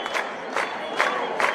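A dense crowd outside a monastery during a bishop's procession roars in four rhythmic surging chants.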